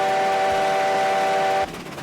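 A steam locomotive whistle in the train game Railroads Online blows as one loud, steady, chord-like blast lasting over a second and a half, then cuts off abruptly into quieter rumbling.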